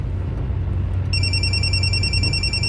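A telephone starts ringing for an incoming call partway through, a steady bright electronic ring held over a low background rumble, with no talk.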